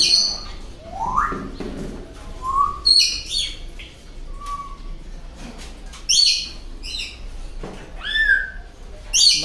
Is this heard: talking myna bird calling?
yes